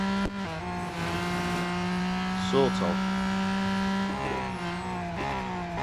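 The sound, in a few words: car racing around a corner in video game Real Racing 3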